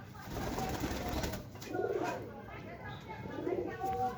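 Racing pigeons coo and scuffle nearby, a male fighting a female, with repeated throaty coos rising over a constant murmur of background noise.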